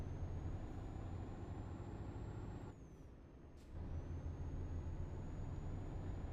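A truck in Euro Truck Simulator accelerates with a loud, steady engine drone and a rising whine. The sound drops out briefly partway through, then comes back at the same level.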